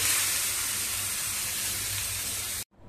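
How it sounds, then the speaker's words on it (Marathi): A loud, continuous sizzling hiss as hot oil tempering is poured onto coconut chutney, lasting a few seconds before cutting off abruptly. "आता आपण ही फोडणी चटणीवरती घालू."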